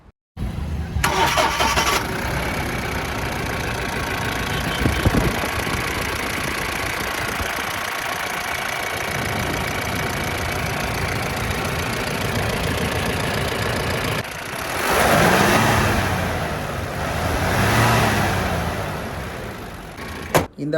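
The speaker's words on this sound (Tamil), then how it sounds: "4 சிலிண்டர் 2500 சிசி இன்ஜின் இருக்குது. நல்ல பவர்ஃபுல்லான இன்ஜின் தான்" Mahindra Bolero pickup with a 4-cylinder 2500cc engine cranks and catches, then idles steadily for a long stretch. Toward the end it revs up twice, with voices speaking over the engine noise.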